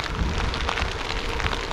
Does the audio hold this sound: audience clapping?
no